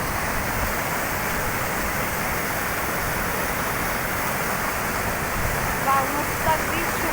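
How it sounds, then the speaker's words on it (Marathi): A fast-flowing stream beside the road to a dam on a trip from Mumbai to Pali gives a loud, constant rushing roar of churning water, close by and unbroken throughout. "खूप जोरात पाणी वाहत आहे."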